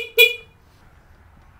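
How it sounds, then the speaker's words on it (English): An electric scooter's horn gives a single short, bright beep, close and loud, then quiet low background noise follows. "honk the horn."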